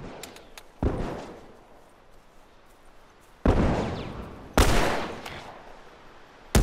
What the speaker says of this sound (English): Okay, Tommy, good shooting